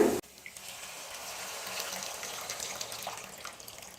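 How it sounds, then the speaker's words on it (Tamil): Tamarind water pours steadily into a pan for fish curry for a few seconds, a soft continuous splashing stream, close and fairly quiet. "இப்போ அந்த புளி கரைசலை சேர்த்துடுறேன்"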